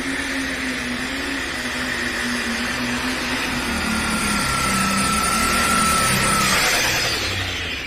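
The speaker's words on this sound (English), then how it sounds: "You saw that tractor go right away." Pulling tractor with big split stacks roaring down the track at a tractor pull event, a loud sustained engine drone that climbs gradually in pitch and intensity, heard from a distance with a high whine above it.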